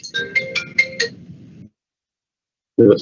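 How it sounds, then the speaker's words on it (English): A mobile phone rings during a council cabinet meeting, a bright chiming melody of several quick tones lasting about a second and a half, followed by silence and a brief thud. "Somebody's phone."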